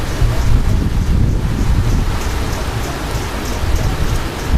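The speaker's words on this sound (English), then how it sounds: "There we go, just heard some hail." Heavy golf-ball-size hail pounding down during a supercell thunderstorm in St. Louis, Missouri, a loud, dense, continuous roar of impacts with wind buffeting the microphone and no voices.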